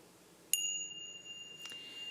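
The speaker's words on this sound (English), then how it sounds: "I'm going to invite the bell as we prepare our sacred space." Single bell struck to open a Sunday morning celebration service at a spiritual campus, a clear ringing tone that sustains and slowly fades in a quiet room.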